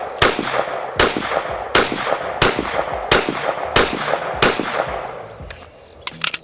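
A pistol fitted with a red dot sight fires a steady string of about eight sharp, loud shots at an even pace, followed by a quieter tail with faint clicks.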